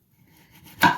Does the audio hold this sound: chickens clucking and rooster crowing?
no